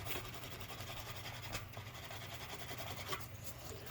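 A leather sheath for an Opinel No. 12 folding saw is rubbed quickly to smooth it, giving a faint, rapid back-and-forth friction rasp repeating steadily at close range with no talk.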